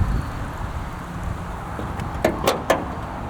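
A 2024 Mercedes-Benz eSprinter electric van has its hood opened: a few short latch clicks and a soft thunk come close together late on, over a steady low background hum, with no talking.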